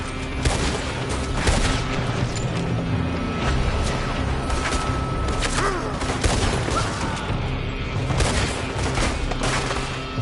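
Rapid gunfire from a building rings out in sustained bursts and scattered single cracks, loud and echoing, with a constant rumbling din behind it.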